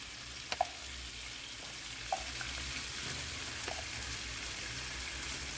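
Garlic slow frying in a pan alongside Italian sausage, peppers and onions, a steady close hiss of sizzling oil with a few faint scattered pops and ticks, no talking.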